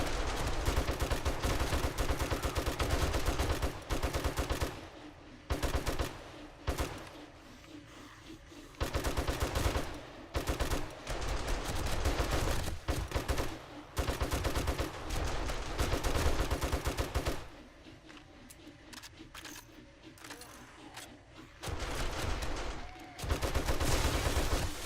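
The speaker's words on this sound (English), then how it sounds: "We just put those turrets in, too." Automated turrets in the survival game 7 Days to Die fire in long, loud, rapid bursts with brief gaps, sustained gunfire dominating throughout.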